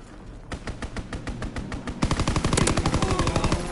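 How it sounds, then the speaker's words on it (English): Call of Duty WW2 gameplay: a fighter plane strafes the target with rapid machine-gun fire, first a steady burst of shots, then a louder, denser stream of rounds, with no talk over it. "Fighter pilot inbound, strafing the target."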